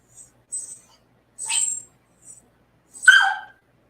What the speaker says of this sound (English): Oh, that's my baby dog.